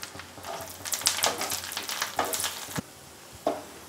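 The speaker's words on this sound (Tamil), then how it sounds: "இதை மூணையும் ஆட் பண்ணிக்கிட்டு லைட்டாக வதக்கிக்கலாம்" Ginger-garlic paste with mustard, fenugreek and cumin powder is sautéed for chicken pickle, producing a close, uneven sizzle with repeated stirring swishes and a sharp knock near the end.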